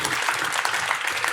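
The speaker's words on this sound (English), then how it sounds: "Oh, you can clap." During a keynote speech on food access at a summit, the audience breaks into a brief spell of dense, steady clapping, with a voice faintly present underneath.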